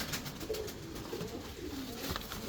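A fancy pigeon cooing close by in soft, repeated throaty phrases over a noisy, hissy background.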